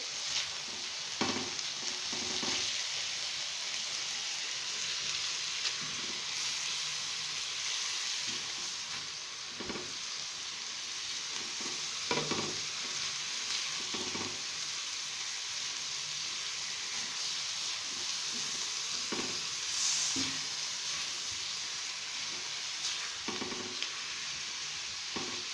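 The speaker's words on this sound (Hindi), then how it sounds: "स्पाइसेस डाल के अच्छी तरह से मिक्स करेंगे" Chicken sizzles on a hot tawa as spices are worked in. A constant frying hiss runs under repeated spatula scrapes and knocks that come every few seconds, close, with no voices.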